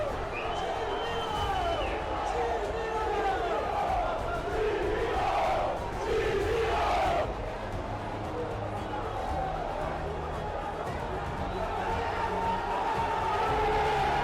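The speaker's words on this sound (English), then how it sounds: "After this goal, fans from both teams rushed the field and started fighting right there on the pitch." A large crowd of football fans rioting and brawling on the pitch, a continuous roar of shouting voices with rising yells and cries, steady and loud throughout.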